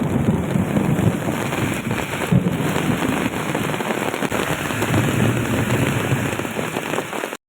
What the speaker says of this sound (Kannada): ಮಳೆ ಹೆಂಗೆ ಬರ್ತಿದೆ ಅಂತ ಒಂದು ವೀಡಿಯೋ ಹಾಕಿರ್ತೀನಿ ನೋಡಿ